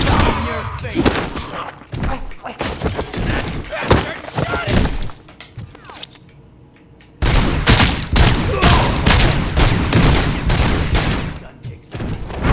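Loud bursts of video game gunfire, with rapid volleys, thuds and shattering impacts broken by a brief quiet gap partway through, while voices talk over the action.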